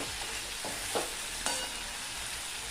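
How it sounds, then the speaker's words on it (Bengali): Potato, okra and tomato are stirred in a frying pan over a soft, constant sizzle, with a few scattered scrapes and taps from the spatula. The whole sound stays fairly faint. "সমস্ত উপকরণ এবার ভালোভাবে নেড়ে চেড়ে মিশিয়ে নিচ্ছি।"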